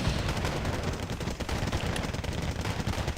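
Rapid, continuous machine gun fire from an M1 Abrams tank in the video game Wargame AirLand Battle rattles steadily and densely for several seconds, loud and unbroken, with no talking.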